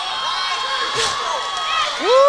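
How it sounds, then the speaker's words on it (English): A crowd cheers and roars at a combat sports fight, a broad sustained noise with rising whoops and shouts, while commentators talk over it. "We hear the crowd just getting into this as well"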